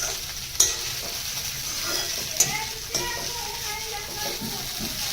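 Peanuts fry in hot oil with a continuous crackling sizzle, broken by a few sharp clinks and scrapes of stirring in the pan.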